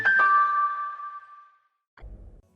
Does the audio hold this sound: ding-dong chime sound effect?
yes